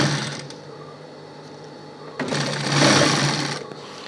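A sewing machine stitching the handle onto a handmade shopping bag, short bursts of rapid mechanical whirring that pause and then run louder for over a second, close up with no voices.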